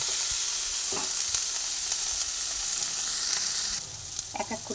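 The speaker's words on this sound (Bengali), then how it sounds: "তেলের মধ্যে পেঁয়াজ দিয়ে পেঁয়াজ ভেজে নিচ্ছি সেই সময়ের মধ্যে কুচানো রসুনও দিয়ে দিলাম পেঁয়াজ আর রসুন একসঙ্গে দুটো ভেজে নিচ্ছি" Chopped onion and garlic sizzling together in hot oil in a pan, a steady close frying hiss with occasional stirring scrapes, ending with a few louder spatula clinks.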